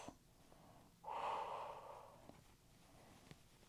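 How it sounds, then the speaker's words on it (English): One long exhale breathed out through the mouth during a full-body stretch, a soft, airy breath that rises suddenly and fades over about a second, close and alone. "exhale out through the mouth"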